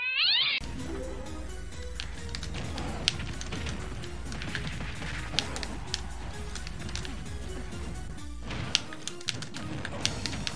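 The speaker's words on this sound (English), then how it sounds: "I hate you, you stupid cat." A video game cat meows once at the start, followed by a repetitive pulsing game soundtrack with tapping effects and brief clicks.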